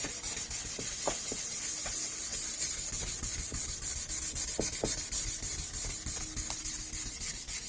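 Continuous wet rubbing and scraping, a steady abrasive swish of sandpaper wet-sanding resin back and forth with faint clicks, close and uninterrupted.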